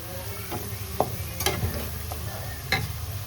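Potatoes frying in a wok give a steady low sizzle, broken by a few sharp scrapes and knocks of a spatula stirring them, close and fairly loud, with no talk.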